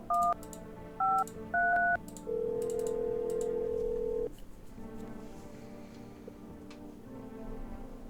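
Telephone keypad tones sound in the video game No, I'm Not A Human: three short beeps, then a longer steady tone, all faint, followed by quiet background hum.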